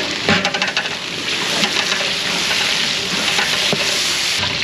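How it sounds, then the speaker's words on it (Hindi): Tomatoes drop into onion and garlic frying in a pot, setting off a loud, steady sizzle with a few quick stirring scrapes and clinks near the start; the frying stays close and continuous with no voices. "यहाँ पे इसमें टमाटर डालेंगे"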